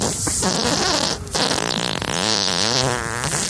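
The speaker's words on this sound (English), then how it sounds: "And yes, this is a real fart" A real fart during a podcast, a loud continuous rasping and sputtering burst lasting the whole stretch, close up, with no talk over it.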